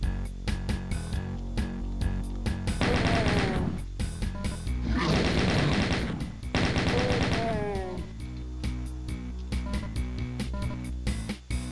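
The chain gun in the video game Doom fires in long rapid bursts, a dense loud rattle of shots over the game's music, with short gaps between the volleys.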